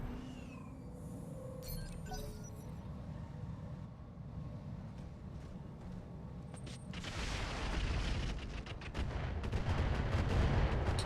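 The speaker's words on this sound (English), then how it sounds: "so that's the rockets" Rocket salvos fire in the mech battle game Roguetech, a rumbling barrage of booms and crackling impacts over a constant low battle drone, growing denser and louder toward the end.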